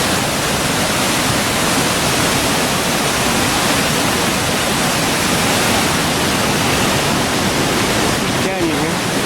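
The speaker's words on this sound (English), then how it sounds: "stay here in this wind" Strong wind roars steadily across a steep, rough logging road in a canyon, a dense, unbroken rushing noise that lasts the whole stretch.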